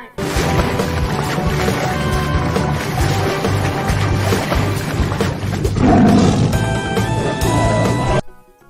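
A loud, sustained roar of a big cat, dense and rumbling, filling the whole stretch before cutting off abruptly at the end.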